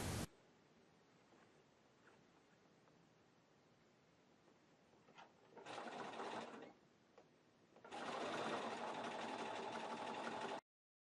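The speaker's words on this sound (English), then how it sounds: "Using your walking foot, stitch the binding 1/4 inch from the edge." A sewing machine with a walking foot stitches quilt binding in two bursts, first a brief run and then a longer, louder one, separated by near-silence and faint room hum.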